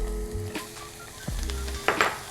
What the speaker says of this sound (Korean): 고기가 있고 함께 어느 정도 볶아졌으면요. 여기에 준비된 채소를 넣을게요.